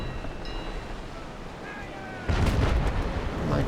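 Broadside of ship cannons firing in the naval combat game Naval Action, a sudden loud rumbling burst of blasts after a quieter stretch of sea and wind ambience, with faint talk earlier.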